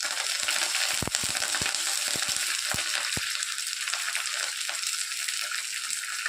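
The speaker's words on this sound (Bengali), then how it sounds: "তেল গরম হয়ে গেছে, এবারে আমি সর্ষে আর কারি পাতা ফোড়নের জন্য দিয়ে দিচ্ছি" Mustard seeds and curry leaves hit hot oil with a loud, dense hiss, while a quick run of sharp pops and spits crackles over the first few seconds, then settles into a steady close sizzle.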